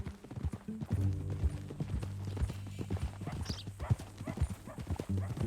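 Horse hooves clip-clop steadily in Red Dead Redemption 2, a close, even rhythm of hoof strikes running the whole time, with a brief whinny and a voice speaking faintly beneath.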